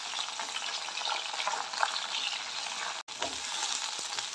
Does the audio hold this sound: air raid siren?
no